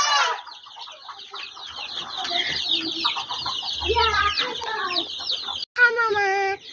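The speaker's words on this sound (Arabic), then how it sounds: "هو صيصان صغار." Small chicks and chickens cheep and peep nonstop at close range, a busy overlapping chorus of high chirps with some lower clucking, briefly broken near the end before the chirping resumes.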